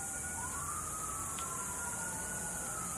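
A siren wails faintly in the distance, its long, gently rising and falling tone drifting over a steady background hiss for about three seconds.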